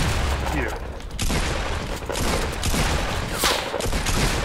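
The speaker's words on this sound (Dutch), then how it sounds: "Maar ze schiet ook vanaf buiten." Rapid bursts of gunfire in the video game Fortnite, crackling shots that repeat densely throughout over constant game noise, with a player talking at times.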